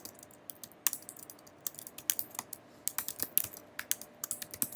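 Fingers type on a computer keyboard while coding, a steady patter of sharp key clicks in irregular bursts, close and fairly quiet with no voices.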